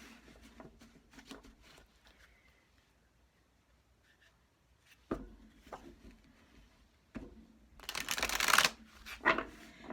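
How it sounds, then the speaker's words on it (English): Energy Oracle cards are shuffled by hand in soft, scattered riffles and taps, quiet and close, rising to a louder flurry of card sound near the end. "I shuffle everything live"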